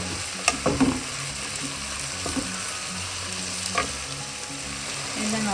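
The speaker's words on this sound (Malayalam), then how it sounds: "എല്ലാം കൂടെ നന്നായി വഴറ്റാം." Chopped vegetables for a vegetable pulao, with mint and coriander leaves, sautéed in a pan, giving a steady close sizzle of frying with a few sharp scraping stirs of a spoon and no talk.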